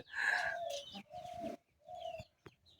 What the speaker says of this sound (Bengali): দেখেন আমার আকাশি কবুতর আছে, তারপর কালদম আছে এক জোড়া